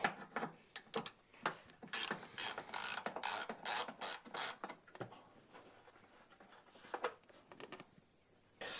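Quick bursts of ratchet clicking as 10 mm bolts are backed out of a plastic panel on a Kubota B2601 tractor, close and crisp, several rapid runs with short pauses, then fainter clicks.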